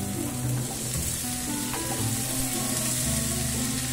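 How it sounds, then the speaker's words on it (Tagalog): Chopped onion and tomato sauté in hot oil in a pan, giving a continuous dense sizzle with a few faint clinks of a utensil, loud and close, with no voices. "igisa muna natin sila"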